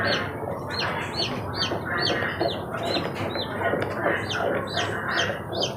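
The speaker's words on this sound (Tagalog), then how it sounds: "At grabing iyak-iyak yung aking sisiw." A dense chorus of newly hatched chicks, about five to six days old, peeping loudly and continuously in rapid, overlapping high chirps, close by, with no talking.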